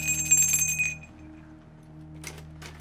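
A bell rings with bright metallic tones for about a second over a low hum, then fades, and a few faint knocks follow.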